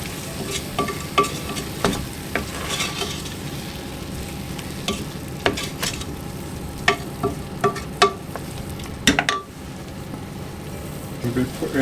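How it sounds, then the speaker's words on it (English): Salted pig tail stew bubbles and sizzles in a pot over a low fire while a utensil scrapes and knocks in repeated stirring strokes, steady and close. "Give that a nice stir in."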